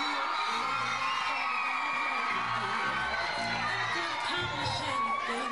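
School crowd at a student fashion show shrieking and cheering continuously, a dense wash of high excited screams and shouts from many voices, loud and sustained throughout with no lull.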